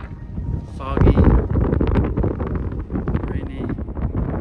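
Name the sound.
strong wind on a mountain pass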